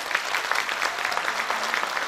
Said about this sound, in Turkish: O okyanus yürekli hocama bir alkış istiyorum.